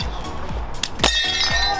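Glass smashes into shards during a demolition session, a loud sudden crash with bright tinkling fragments, followed by further clinks and crunching debris in a noisy, close setting.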